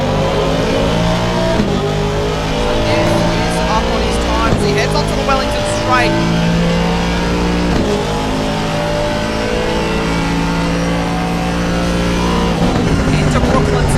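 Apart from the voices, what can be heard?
Aston Martin race car with twin-turbo V8 Mercedes engine, in-cockpit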